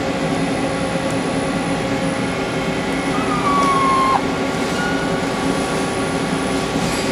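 A Hyundai HIT-15S CNC turning center with an 840C EZ Teach control runs steadily, its broad mechanical hum and whir holding level throughout, with a brief rising whine partway through.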